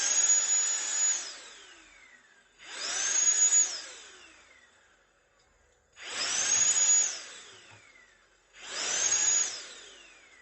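A HORM battery-powered air blower revs up to full speed in four loud whooshing bursts, each whining high and then winding down before the next.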